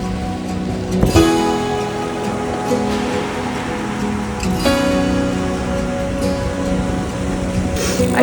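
Heavy rain on a cyclist during a first ultra-distance ride, a steady broadband wash with a few louder gusts or splashes, close and continuous with no talk.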